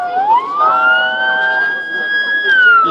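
Ambulance and fire truck sirens at an off-road accident scene in Düzce, Turkey: a loud wailing tone rises, holds steady and falls again, with a second siren layered in briefly.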